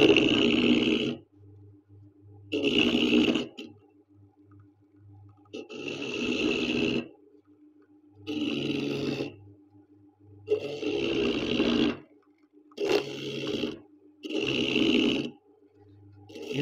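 Electric hotel coconut scraper machine running in repeated bursts, each a loud rough grinding roar of one to two seconds separated by short pauses with a faint motor hum underneath.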